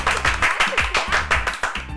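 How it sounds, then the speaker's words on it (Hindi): A small group claps in a quick, uneven rhythm, close and fairly loud, with no one speaking. "अबे देख क्या रहे हो यार, तालियां बजाओ।"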